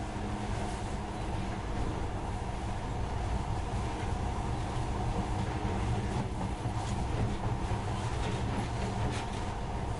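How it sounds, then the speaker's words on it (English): A steady rumbling roar of a video game monorail running along its track, constant and loud with faint rattling throughout, no voices. "this monorail seems magic, doesn't it?"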